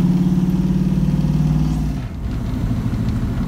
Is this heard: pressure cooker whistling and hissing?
no